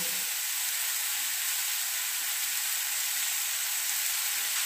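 Grated ginger goes into a hot pan and is stirred in, giving an even, continuous sizzling hiss from start to finish with no voices.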